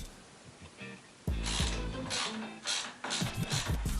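A ratchet cracks off the pinch bolt at the bottom of a motorcycle fork leg, with a quiet click or two followed by several loud, close bursts of rapid ratcheting clicks.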